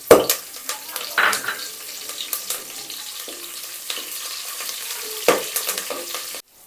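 Garlic cloves and curry leaves are dropped into spluttering mustard seeds in hot oil for Kerala-style mango pickle, giving crackling pops and bursts of sizzle with stirring clatter, close and irregular.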